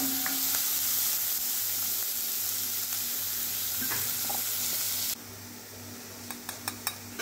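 Chopped onion sizzles steadily in a hot pan, frying for a Maharashtrian kaju masala with naan. A dense, even hiss runs for about five seconds, then quietens to a softer sizzle with a few light stirring clinks near the end.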